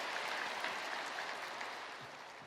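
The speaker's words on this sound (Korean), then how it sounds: "귀한 은혜의 찬양을 주신 우리 베다니 찬양대에게 뜨거운 감사의 박수 한번" A church congregation applauds the choir after a hymn during a Sunday worship service, a soft, even patter of many hands heard from a distance that slowly fades as it goes on.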